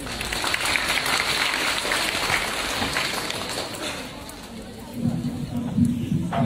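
Audience applause in a crosstalk theatre for a comic duo's performance, a thick continuous patter of clapping that fades partway through as a voice starts speaking over it.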